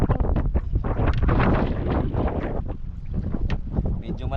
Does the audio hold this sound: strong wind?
yes